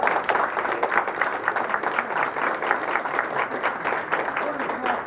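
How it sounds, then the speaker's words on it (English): Audience applause in a meeting hall, a sustained patter of many hands clapping at moderate loudness throughout, with murmured voices blended underneath. "It does deserve some applause."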